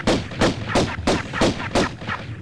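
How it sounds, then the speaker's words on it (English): Gunfire in the 1996 video game Tomb Raider: six loud, evenly spaced gunshots fire in a steady rhythm, each a sharp broadband crack with a short decaying tail, with no talk over them. "Oh, gunfire. That would be the Cowboy"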